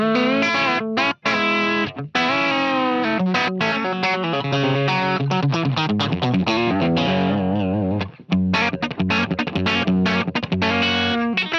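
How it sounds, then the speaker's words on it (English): Electric guitar played through a Boss ME-8 multi-effects unit with compressor and delay, sustained notes and quick phrases ringing out with audible echo repeats, loud and continuous with a couple of brief gaps. "Uh-oh, that's still a lot of delay."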